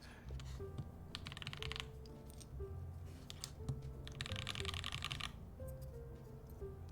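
Mechanical keyboard with a new black polycarbonate keycap set being typed on nearby, bursts of rapid clacky keystrokes separated by short pauses, at moderate volume.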